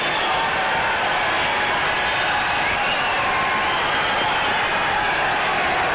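An enthusiastic crowd at the 1970 All-Ireland hurling final between Cork and Wexford at the cup presentation, a dense continuous roar of cheering and clapping heard from a distance, steady throughout.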